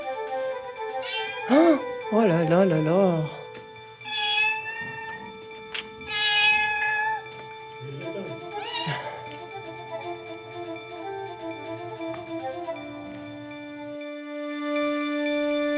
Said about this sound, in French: Oui, petit chat.